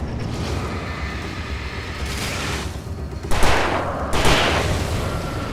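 Revolver shots ring out in Alan Wake Remastered, a couple of loud, close bangs with trailing echo rising over a dense, hissing game soundscape.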